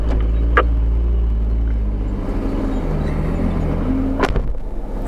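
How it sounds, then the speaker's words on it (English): An off-road truck with a turned-down exhaust climbs Corkscrew Pass, its engine a low, steady rumble that dips slightly midway, with faint passing sounds over the drone. "He always blows the dirt around with his exhaust."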